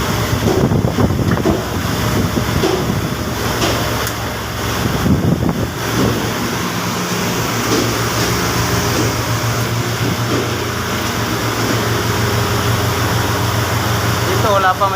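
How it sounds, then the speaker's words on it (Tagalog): Heavy rain and strong wind batter a shelter on the first day of June, a dense steady roar filling the whole stretch, with people talking over it near the start. "Ulan na talaga."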